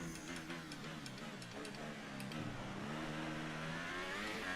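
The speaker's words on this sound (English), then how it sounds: "as I'm racing the McLaren right now" A McLaren Formula 1 car in the F1 2018 racing game at the Bahrain Grand Prix circuit, its engine droning loud and steady with layered tones that shift in pitch as it accelerates.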